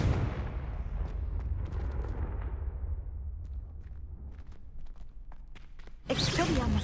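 A Confringo explosive spell blast in Hogwarts Legacy lands as a deep booming burst that rumbles and slowly fades with scattered crackles, before another loud rushing burst erupts at the end.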